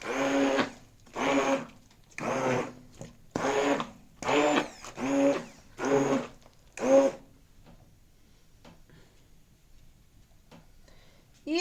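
A blender mixing potato dough whirs in about eight short loud bursts, each a second or so, then stops, leaving near silence with faint clicks.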